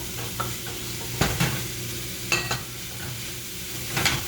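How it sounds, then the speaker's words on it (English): Tofu crumbles and diced tomatoes sizzle softly in a pan, broken by a few scraping stirs of a utensil, close and alone with no talking. "And then you'll just cook this for about 10 minutes and just stir occasionally."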